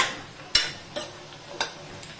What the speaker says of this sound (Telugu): ఆనియన్స్ ఫ్రై అవ్వడానికి వచ్చాయి.